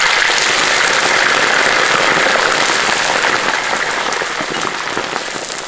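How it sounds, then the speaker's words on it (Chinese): Loaches frying in hot oil in a pan, a dense, steady, loud sizzle that fills the whole stretch and eases only slightly toward the end. "现在泥鳅沥干了，下锅再煎"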